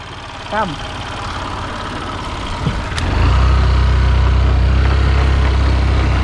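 A motorbike setting off on a ride through Karnataka villages near Bangalore: after a few seconds of quieter background with brief vocal sounds, a loud, close, steady low engine rumble kicks in and holds.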